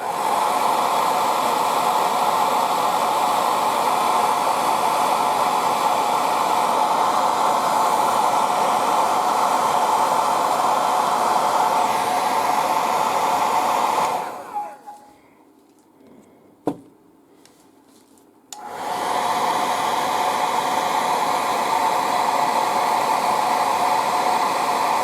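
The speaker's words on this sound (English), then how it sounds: "let's use the air dryer to start dry" An air dryer blows on fresh paint on a miniature goblin figure, a loud steady hiss that runs for about fourteen seconds, cuts out briefly with a small click, then starts again and continues to the end.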